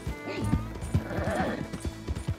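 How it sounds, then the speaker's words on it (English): Horse hooves clip-clop in Red Dead Redemption 2, a quick irregular series of close hoof knocks with a brief whinny-like tone, under faint background sound. "I'm glad we have like our set horse that we're gonna use all game."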